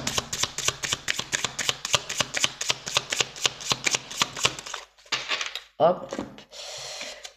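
Oracle cards being shuffled in quick, regular riffling bursts at close range, followed by a few softer card slides and handling noises; no one speaks.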